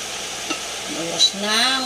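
Cooking oil sizzles steadily in a pan during stirring while preparing ginataang camansi, a soft continuous frying hiss under a person talking nearby.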